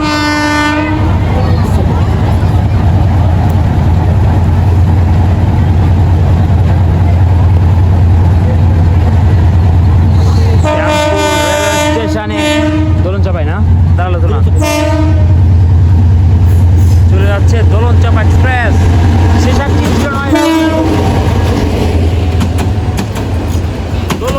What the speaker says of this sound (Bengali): শ্যামপুর রেলওয়ে স্টেশনে রংপুর থেকে ছেড়ে আসা ট্রেন দেখা যাচ্ছে